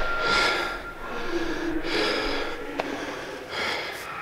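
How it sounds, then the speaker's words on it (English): Heavy, rapid breathing from a person just off a half-hour cardio session on a treadmill, close and loud, with repeated gasping breaths and snort-like exhales running throughout. "I'm just gonna go measure my breathing rate."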